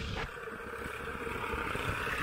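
A tractor ploughs a flooded rice paddy in Nepal during planting season, its engine a continuous close, steady rumbling drone with some wind noise over it.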